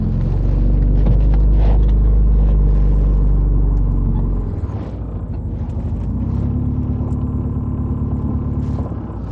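A used car's engine idles steadily during a check, a loud continuous low rumble that dips in level partway through and then holds at a slightly lower, even drone.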